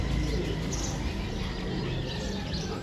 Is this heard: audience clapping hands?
no